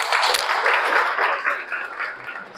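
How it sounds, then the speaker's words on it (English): Audience at a club meeting applauding in a steady wash of clapping that holds for a few seconds and slowly thins toward the end, with no talk over it. "can we have a huge round of applause for all of them"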